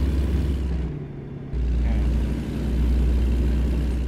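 A modded truck engine in American Truck Simulator rumbles with a steady low drone, briefly dipping for about half a second before returning to a loud, even idle.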